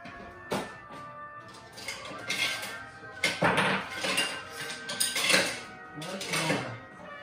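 Spoons and dishes clink and clatter while papas bravas are mixed and served at the table, with several sharp metallic knocks and scrapes close by, in irregular bursts.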